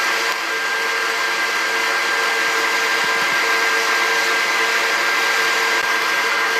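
A popcorn popper roasting Guatemalan coffee beans blows with a loud, steady hot-air whir, constant and unbroken throughout.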